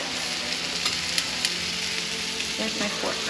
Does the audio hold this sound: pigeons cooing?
no